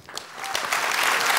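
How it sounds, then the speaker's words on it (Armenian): Studio audience applauding a guest named Eric on a talk show, a burst of clapping that builds and grows louder, bright and full, continuing to the end. "Մեր ծափարությունները Էրիկին"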